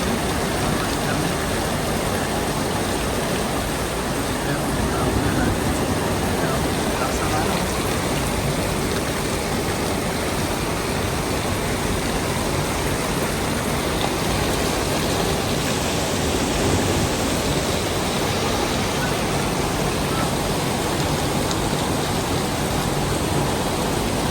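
Heavy rain pours down steadily in Pampanga, a dense, loud and unbroken hiss that fills the whole stretch without a pause and with no talking.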